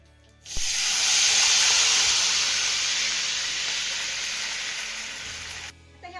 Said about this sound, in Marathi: आपल्या ह्या पाण्याला मस्त अशी खळखळून उकळी आलेली आहे